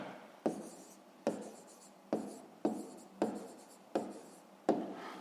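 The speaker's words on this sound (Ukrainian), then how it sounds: "записуємо відповідь, пишемо відповідь" An answer being written by hand for a 5th-grade math exercise, a pen scratching in close, repeated strokes about every 0.8 seconds, quiet and alone.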